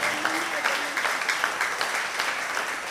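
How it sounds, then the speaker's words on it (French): A church congregation claps and cheers in praise during a worship proclamation, a loud, dense burst of applause mixed with shouts that continues steadily for a few seconds. "Acclamons très fort le Seigneur."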